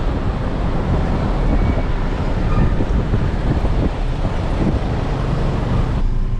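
Steady road traffic roars in Trinidad, a dense, loud wash of engine and tyre rumble with no distinct passes standing out.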